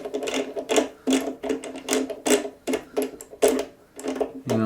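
Cartridge case flash holes being deburred on a mini lathe used for precision reloading, a rapid whirring, clicking machine sound in repeated short bursts that stop and start, close and fairly loud.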